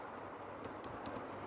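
Someone types an instruction into PLC programming software on a computer keyboard, making a brief run of faint, light key clicks over low background hiss.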